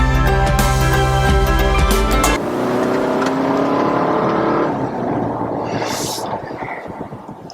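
A 2021 Volvo V60 T8 plug-in hybrid wagon accelerating, with a rising engine drone heard from inside the car after a brief stretch of tonal music at the start.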